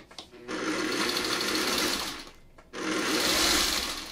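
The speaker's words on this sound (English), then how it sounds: "let me just get this one sewn correctly" Sewing machine stitching fabric in two loud, steady whirring bursts, close by, with a brief pause between them.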